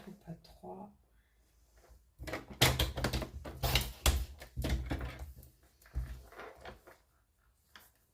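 Cardstock being cut for a scrapbooking drawer unit gives a series of close, crisp slicing and thumping sounds with uneven pauses, alongside a person talking.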